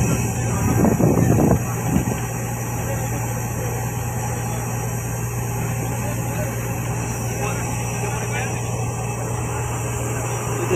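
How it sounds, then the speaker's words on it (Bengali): A fishing boat's engine drones steadily while the boat runs across the open ocean, with a brief louder gust near the start and continuous wind rushing over the microphone. "এখন আমাদের ফিশিং বোট চলছে মহাসমুদ্রের ভিতরে।"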